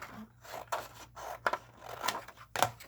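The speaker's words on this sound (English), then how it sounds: "Let's cut some of this excess off." Scissors snip through excess paper trimmed from a sheet while building a miniature witch's bookshelf, several short crisp cuts spaced unevenly, close and fairly quiet with no talking.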